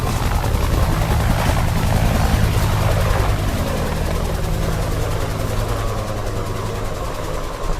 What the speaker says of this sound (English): Oh man, that's a helicopter